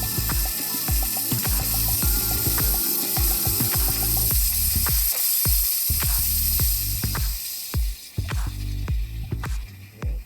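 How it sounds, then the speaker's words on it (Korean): Turning the steam-amount dial on top of a Univia steam cleaner body gives a rapid series of crisp ratchet clicks, close and steady, with a few louder detents near the end. "본체 상단에 다이얼을 돌려서 나오는 스팀의 양을 조절해 줄 수가 있습니다"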